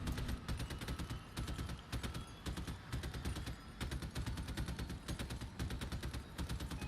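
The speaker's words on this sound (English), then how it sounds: "So the sinus is a new machine gun. Let's just listen to it." The Sinus machine gun in the vehicle combat game Crossout fires in long rapid bursts, a dense loud chatter of shots with only brief pauses.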